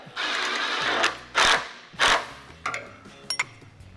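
Clamp being tightened during assembly of a VW 1600cc dual-port engine: several short mechanical ratcheting and rattling bursts, close and fairly loud, separated by brief pauses, with no talking.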